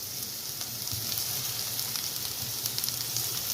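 Bitter gourd pieces sizzle steadily in a pan over a high flame, with a continuous close frying hiss and light crackles throughout and no talking.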